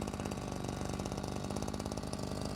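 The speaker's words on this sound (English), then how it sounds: "We will now increase the engine's throttle to raise it to the maximum RPM possible." A small engine on a power sprayer idles steadily, a close, continuous mechanical chugging with an even rhythm and no talking over it.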